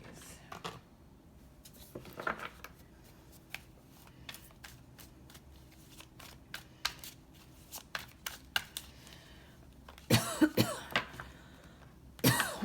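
Tarot cards being shuffled and handled, with several bursts of riffling and light snapping scattered through the clip and a louder flurry near the end, close and fairly quiet against a soft background.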